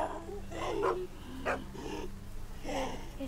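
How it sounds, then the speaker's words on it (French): A dog barks in The Walking Dead Telltale video game, Season 2 Episode 1, giving several separate yelping barks and whimpers over a steady low hum, moderately close and fairly quiet. "Arrête d'aboyer là."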